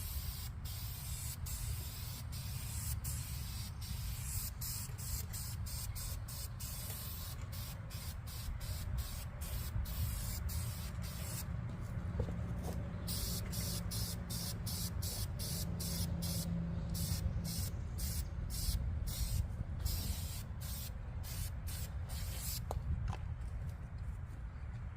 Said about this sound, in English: I put the clear coat on that side just to see how it's gonna turn out